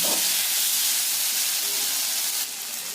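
A paste of poppy seed, green chili and cashew hitting a hot pan, giving a loud dense hiss that holds steady, then drops slightly near the end.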